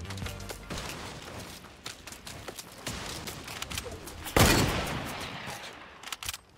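Shotgun fire in the video game Fortnite Battle Royale, a run of dense, noisy blasts with one especially loud burst midway, mixed with other game effects and no talk.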